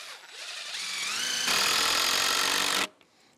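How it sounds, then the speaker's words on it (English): A power drill driving screws into a low-cost solar array ground mount, one sustained whirring run that rises in pitch and cuts off abruptly, close and loud. "I'm gonna go ahead and add a couple more screws here at the top."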